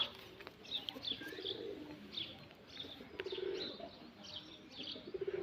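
Patta pigeons in a pigeon loft coo softly and repeatedly, with faint chirps and low murmuring from the flock throughout.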